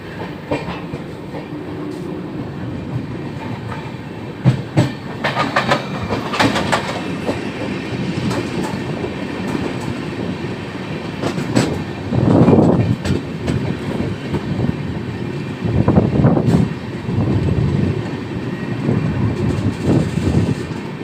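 Steady rumble and clatter inside a Humsafar express train travelling from Darbhanga to Delhi, with rhythmic wheel clicks and a few louder surges of rattling carriage noise, no talk.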